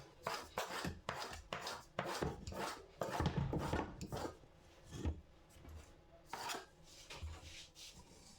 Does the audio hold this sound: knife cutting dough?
yes